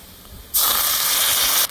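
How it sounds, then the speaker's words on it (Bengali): A little water poured into a wok of hot oil with browned onion, cumin and bay leaf: after a quiet moment, a sudden loud burst of steamy hissing that holds steady for about a second, then cuts off. "এখন আমি পানি দিয়ে নিচ্ছি একটু"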